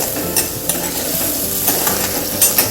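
Onion sautés loudly in a pan, a dense close sizzle with rapid rattling, scraping stirs and a few clicks for a couple of seconds, no talk.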